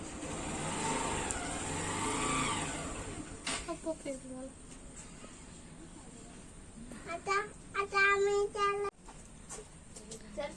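A car engine hums and rises nearby as the vehicle arrives, fading into softer rumbling while people, including a child, talk over it.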